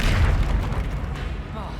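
A Depulso spell cast in the Hogwarts Legacy video game lands as a deep, heavy boom with a rumbling thud, closely followed by a short voice.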